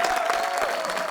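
An audience at a football skills show claps in a short, full round of applause. A faint sustained tone runs through the crowd noise.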